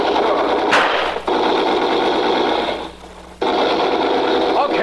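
Machine gun fire in an old 1949 radio crime drama, long loud continuous bursts with a short gap between them.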